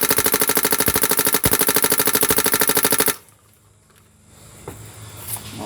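A Smart Parts Ion XE paintball marker fires a rapid, steady stream of loud pops for about three seconds, then stops, leaving quieter handling noise.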